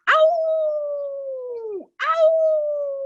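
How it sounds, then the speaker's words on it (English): A wolf pup and pack at a den howl in two long, loud, sustained calls, the first sliding slowly downward before breaking off, the second rising back in after a short gap, close and clear with no talk. "a pup over in the wolf den had heard the bear shenanigans and started to howl"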